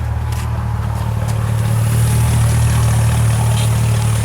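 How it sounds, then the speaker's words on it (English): Mercedes-Benz 450SEL 6.9 W116 V8 engine, a deep, loud, steady low-pitched rumble that swells slightly midway as it is revved, heard up close with no voices. "Give it a rev."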